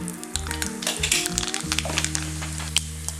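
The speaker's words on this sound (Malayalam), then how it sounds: "നല്ലെണ്ണ ചൂടായി കഴിയുമ്പോൾ 1 ടീസ്പൂൺ കടുക്," Mustard seeds sizzling and crackling in hot sesame oil for a Kerala banana stem pickle, a busy popping hiss close up, with a steady tonal hum running beneath it and no speech.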